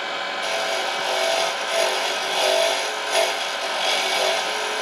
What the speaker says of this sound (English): Again, I'm scraping, I'm not cutting.